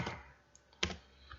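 Keystrokes on a computer keyboard while typing a word, a few soft taps followed by one louder, sharper click near the middle, close and quiet with no voice.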